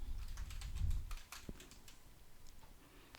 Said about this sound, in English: You type in your first and last name.